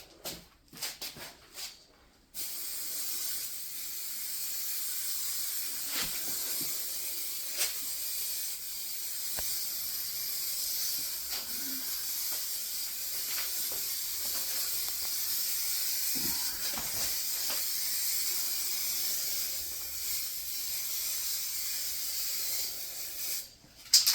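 Aerosol can spraying a second coat of 2K clear onto a Jaguar X-type, a steady close hiss running almost continuously for over twenty seconds after a brief start-stop at the beginning.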